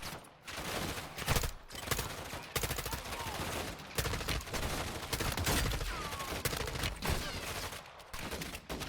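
Dense bursts of automatic gunfire and explosions rattle through a firefight in the video game Call of Duty: Modern Warfare II, loud and nearly continuous, with rapid volleys overlapping and a brief lull near the start.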